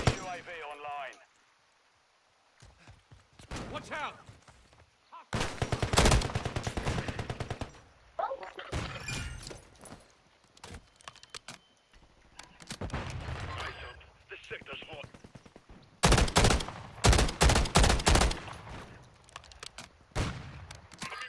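Call of Duty gunfire crackles in sharp bursts and rapid volleys at several points, loud against quieter stretches, with people talking between shots.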